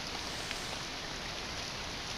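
Steady, dense rain hiss from a Japanese free horror video game, an even wash of falling water that stays constant for the whole moment with no voices over it.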